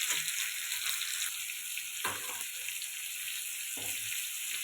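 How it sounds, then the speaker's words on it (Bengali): Mung dal frying in a pan until reddish gives a steady, fairly quiet sizzling hiss, interrupted by a few short stirring bumps. "সুন্দর লাল লাল করে ভেজে নিব।"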